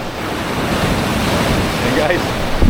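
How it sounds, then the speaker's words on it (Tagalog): Large ocean waves breaking on a rocky shore, a loud continuous roar of surf mixed with wind buffeting the microphone, rising slightly toward the end. "Wow, lalaki ng alon."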